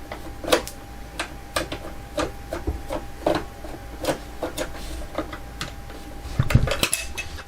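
A screwdriver works at the battery cover of a toy Batmobile, giving sharp plastic clicks and small ticks in an irregular run, close up, with a busier cluster of knocks near the end.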